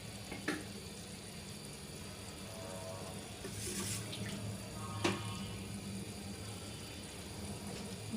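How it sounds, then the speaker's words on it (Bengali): Water is poured into a cooking pot in a quiet, continuous stream over a low background hum, with a couple of faint knocks. "এখন একটু পানি দিয়ে দেবো"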